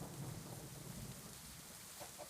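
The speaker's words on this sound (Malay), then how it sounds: "Thunderstorm tu. Thunderstorm mat. Bukan hujan biasa, thunderstorm tu." A thunderstorm rages in a modded video game, with heavy rain hissing steadily and low thunder rumbling underneath, fairly quiet and with no voices.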